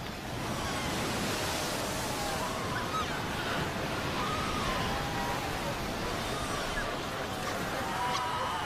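Ocean waves break and wash continuously over a seal colony beach, a dense roaring surf with a wind-blown hiss, loud and close throughout.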